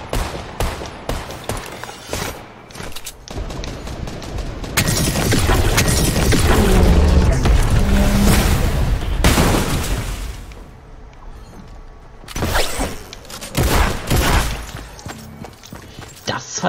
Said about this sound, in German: Ich merke nur irgendwelche Schüsse vorbei segeln